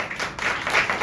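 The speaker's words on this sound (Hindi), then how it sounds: "जोरदार तालियां हो जाए।" An audience at the launch of the drama show Shravani breaks into a brief, loud burst of steady applause, a thick wash of clapping with no voices.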